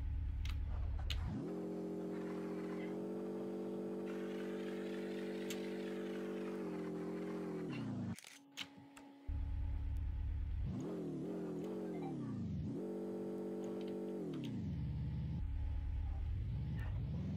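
Truck engine in the Drive Mad video game, a loud synthesized motor drone that revs up and down in long sweeping pitch glides, cutting out briefly midway before surging back with repeated rising and falling revs.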